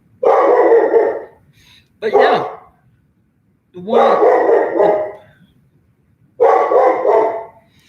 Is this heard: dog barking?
yes